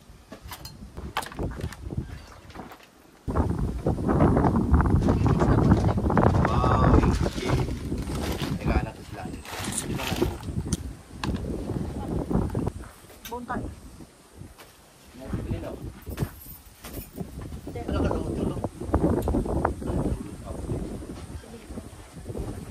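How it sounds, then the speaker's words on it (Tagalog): Strong countryside wind buffets the microphone with a heavy, rumbling roar that surges and eases in gusts, loud and close, while several people talk over it. "Grabe ng hangin."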